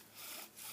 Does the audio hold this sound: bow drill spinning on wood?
yes